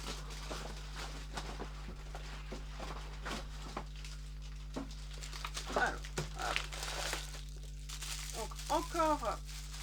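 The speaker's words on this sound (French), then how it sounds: "encore du papier pour protéger une autre pièce" Packing paper crinkling and crumpling in irregular bursts over a steady low hum, with a few rustling handling noises close by, while unpacking a Star Wars Black Series Darth Vader electronic helmet.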